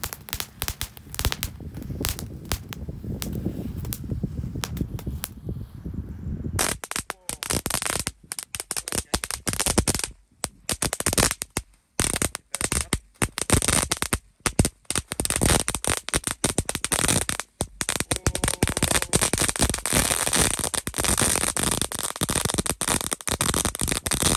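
Two boxes of tank firecrackers go off in a long, relentless barrage of sharp cracks and pops, a thick low rumble at first giving way to rapid crackling bursts that continue without pause.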